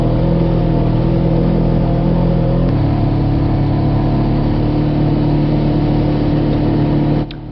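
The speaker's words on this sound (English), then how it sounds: "I'm driving down here now" Steady, loud engine drone from a Polaris RZR 900 side-by-side cruising along a dirt trail, its pitch shifting slightly partway through, continuous with no talk.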